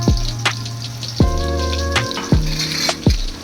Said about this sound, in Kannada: ಇದು ಬೆಳ್ಳುಳ್ಳಿ ಒಗ್ಗರಣೆ ಕೊಡೋದು.